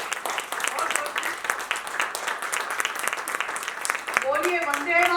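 Applause from an audience at a women's empowerment chat show, dense clapping running throughout with talk over it, ending with a voice standing out near the close.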